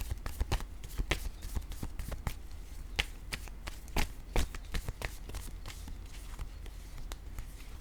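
Oracle cards shuffled by hand at close range, producing rapid, uneven slaps and riffles that repeat steadily for several seconds without pause.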